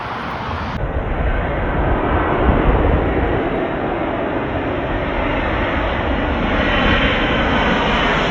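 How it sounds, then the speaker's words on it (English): Jet engines of a United Airlines Boeing 787-8 Dreamliner arriving from Milan at O'Hare give off a loud, steady broadband roar that holds close and even throughout, with no talk. "787-8 Dreamliner, United Airlines from Milan, Italy"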